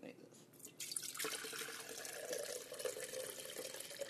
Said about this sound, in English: pour the coconut water right on top of it